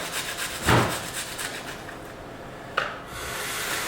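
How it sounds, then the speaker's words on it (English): Apple grated into a bowl of flour for a sourdough starter, giving repeated rasping scrapes in a steady back-and-forth rhythm, close and moderately loud, with a couple of sharper knocks and no voices. "grate the apple into the flour"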